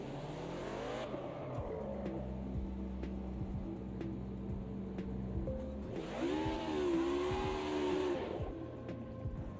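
A race car engine in a sim racing game revs and downshifts with sharp blips, the whine climbing and dropping repeatedly over a steady motor hum, loud and close.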